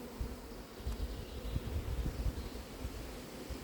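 Bees working a beehive at the entrance, bringing in pollen, keep up a soft, steady buzzing with light rustling throughout.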